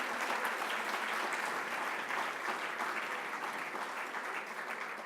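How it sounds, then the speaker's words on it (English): Guests at a Democratic party gala give another round of applause, an even, continuous patter of many hands heard rather quietly and from a distance, holding steady for about five seconds. "Another round of applause for the Farokis and the dynamic Beth Faroki."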